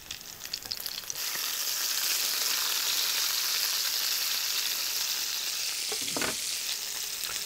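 Salmon fillets sizzle steadily in a frying pan on a Ztove cooktop, some with skin and some without, with a clear scrape and clatter near the end as they are turned; a quiet start quickly swells into continuous frying, no talking.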